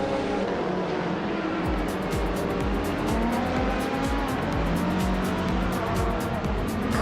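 A 2003 Mitsubishi Evo 8FQ 400 races at Los Arcos Rallycross in a video game. The engine drones loudly and steadily, rising and falling through rapid gear changes, with tire noise throughout and no talking.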